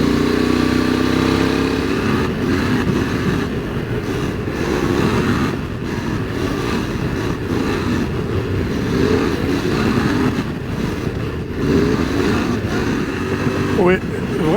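A QJ SRT600SX motorcycle rides a winding French country road, its engine droning loudly and continuously with wind rush and shifts in revs, while a rider talks over it throughout.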